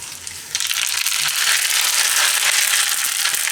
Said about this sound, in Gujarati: તો હવે એમાં વઘાર કરશું